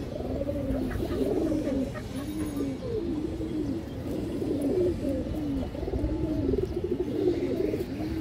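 A female Sobji Giribaz pigeon coos steadily up close, a continuous run of rolling, wavering throaty calls repeating without pause against faint background noise.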